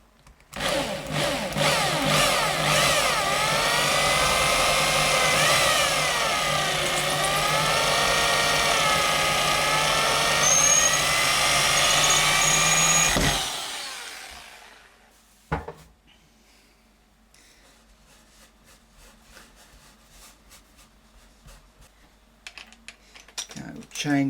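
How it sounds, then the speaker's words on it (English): A power drill whines loudly and steadily for about twelve seconds while boring a hole through a model railway baseboard, its pitch wavering under load before spinning down, followed by quieter clicks and handling. "Okay, and then we'll come in with the drill again"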